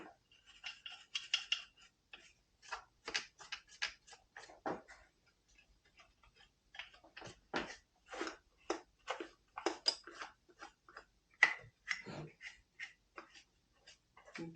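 A toothbrush scrubs crud out of a chainsaw in quick, close bristly strokes, coming in uneven bursts with short pauses over about fifteen seconds, quiet and without talk.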